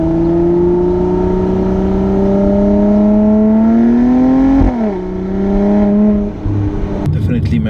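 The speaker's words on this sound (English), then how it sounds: "there's a lot of noise from that V6. Impressive. So growly and loud." A 2018 Mercedes-AMG C43 Coupe 4MATIC's V6 engine revs loud and growly up close, its pitch climbing steadily before dropping back, then settling to a rough idle.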